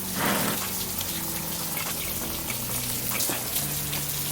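Water gushes steadily out of the radiator of a BMW E36 Compact as it drains, a continuous splashing pour heard close up with no talk over it.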